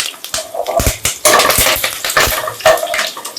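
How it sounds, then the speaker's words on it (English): Curry leaves splutter and crackle in hot frying oil for an egg masala curry, loud irregular bursts of popping and hissing that flare up and die back again and again. "Slowly fry as the oil keeps splitting."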